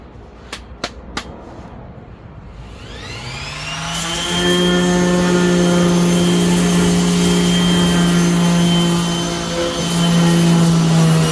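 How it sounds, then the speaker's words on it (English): A thin belt sander starts up on the trunk jamb of a 1991 Honda CRX, a few sharp taps and then a whining motor that ramps up to a loud, steady high-pitched drone, close and alone. "grabbed the thin belt sander, so I'm gonna go ahead and give this a try"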